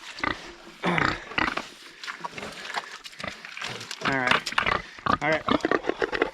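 Pigs grunt and squeal excitedly around a feeding trough on a rainy farm, a dense, close chorus of snorts and squeals that runs throughout.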